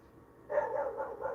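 Dogs at a home bark in a quick run of several short, fairly faint yaps after a quiet moment, with no one talking.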